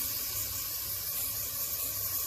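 A soft, steady hiss of cleaner sprayed inside the intake of a 2013 Nissan Murano, continuous and close but fairly quiet.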